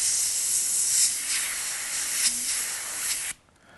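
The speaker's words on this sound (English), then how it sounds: "I'm going to pick up Wicked Red and go ahead and spray those in" An airbrush spraying Wicked Red paint onto a T-shirt, a steady close hiss with brief pulses that cuts off abruptly near the end, leaving near silence.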